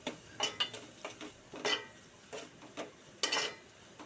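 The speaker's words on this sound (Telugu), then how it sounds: "సో మళ్ళీ మిక్స్ చేసుకొని బాగా కలుపుకోవాలి" A spoon stirs turmeric into a drumstick curry in a pan, making several distinct scraping clinks at an irregular pace over a faint low sizzle, close and fairly quiet.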